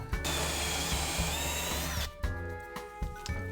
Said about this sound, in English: I know how a drill works